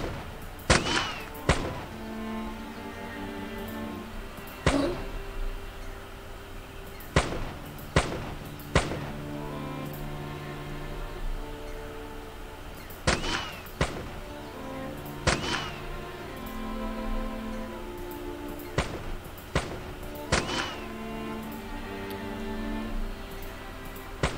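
Gunfire in Arcanum, the steampunk fantasy video game: sharp, ringing shots, some single and some in quick pairs or clusters, spread irregularly over about twenty seconds against a low background hum.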